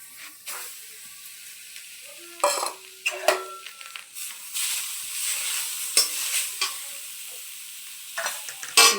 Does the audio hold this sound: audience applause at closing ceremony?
no